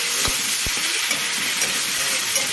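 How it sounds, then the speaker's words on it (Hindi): Onion paste with garam masala fries in a pan as part of a coconut prawn curry. A steady, close sizzle and hiss runs throughout, with a couple of soft knocks and no voices. "प्याज का पेस्ट डाल देंगे। इसको अच्छे से हम फ्राई कर लेंगे थोड़ा।"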